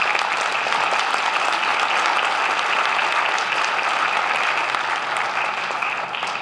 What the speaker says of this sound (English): Let's give it a applause.